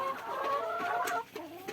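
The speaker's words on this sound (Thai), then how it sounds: "ไก่ไข่ เลี้ยงไว้ 35 ตัวนะครับผม" A flock of 35 laying hens clucking together on a wet, rainy farm, a steady overlapping chatter of cackles at close range that dips briefly near the end.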